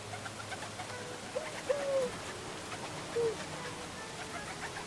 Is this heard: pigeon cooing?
yes